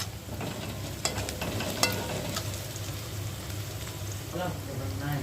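Onion, garlic and two green chilies fry in a pan for a spinach gravy, a continuous close sizzle with a few clinks and scrapes of stirring, while someone talks over it.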